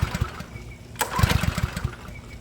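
A Honda pressure washer engine with a dirty carburetor, choke on, is pulled to start: a sharp recoil pull followed by a brief sputtering, chugging burst of the small engine that does not settle into a run.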